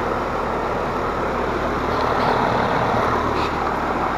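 Air conditioner condensing unit fan blowing steadily outdoors, a loud, even broadband whoosh with a low hum, continuous throughout and with no speech.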